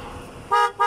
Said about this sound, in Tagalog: Ang lakas ng busina